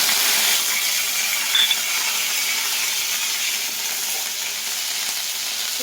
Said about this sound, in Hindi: हमारा तेल हो गया गर्म, तो मैं डाल दे रही हूँ अजवाइन